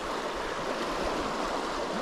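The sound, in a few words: flowing river water, Niangua River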